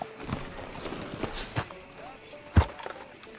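Horse hooves clip-clop in Red Dead Redemption 2 as a horse is ridden up outside a sheriff's office: a series of close, uneven thuds with one heavy stomp, under game voices and a tonal background.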